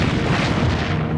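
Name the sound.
battlecruiser HMS Hood exploding after Bismarck shells strike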